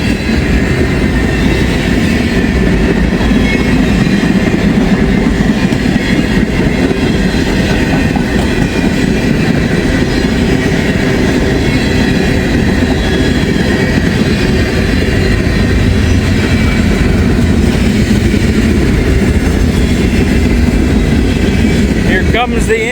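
A freight train of old gondolas loaded with used railroad ties rolls steadily past close by, a continuous loud rumble with clickety-clack of wheels over rail joints throughout.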